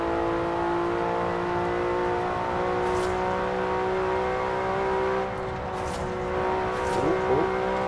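A 2019 Porsche Carrera S in Forza Horizon 4 holding a high, steady engine whine near the redline, loud and continuous with harmonic overtones, dipping briefly before rising again.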